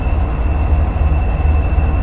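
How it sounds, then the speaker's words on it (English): A GP40-2 diesel locomotive runs steadily in Train Simulator 2018, its low engine rumble constant and loud with a thin high whine riding above, no talking. "slowing and stopping your train with the RRMods GP40-2 Phase 2"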